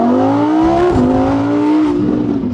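A rented Mitsubishi Lancer Evo sports car revs hard and accelerates close by, its engine note climbing steadily, dipping briefly at a gear change and rising again, loud and continuous with no talking.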